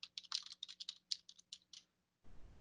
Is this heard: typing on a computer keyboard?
yes